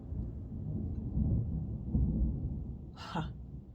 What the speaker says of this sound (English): That was probably the biggest thunder I've heard in a long time